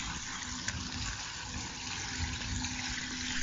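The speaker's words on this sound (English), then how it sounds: "Then you can hear the fountain, which is outside." An outdoor water fountain outside a mosque gives a steady, even splashing wash, moderately distant and continuous without pauses.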